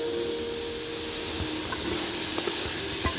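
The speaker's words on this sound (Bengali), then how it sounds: "এবার এটাকে আমি ভাজবো একটু" Chopped carrot and capsicum fry in a pan for a vegetable pasta, giving a constant loud sizzling hiss with a few faint clinks and taps of stirring.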